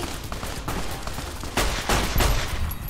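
Rapid gunfire from the Fallout: New Vegas video game, a dense fusillade of repeated shots with heavier blasts near the end, loud and close, with no talking.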